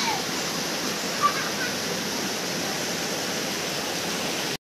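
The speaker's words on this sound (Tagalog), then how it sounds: "Ito na yung pinagtagpong ilog." River water flowing at a confluence under a bridge at a farm in Dinalungan, Aurora: a steady, broad rushing roar, close and unbroken, that cuts off abruptly at the end.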